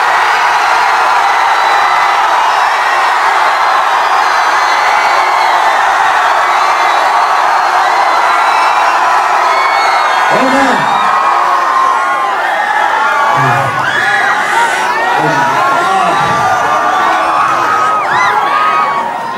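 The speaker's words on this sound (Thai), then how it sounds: "ผมจะนับ3 2 1นะ ครับ แล้วก็กรี๊ดเลยนะ" A live rap battle audience at a semi-final showdown screams and cheers continuously, a dense roaring crowd with whoops and shouts rising throughout.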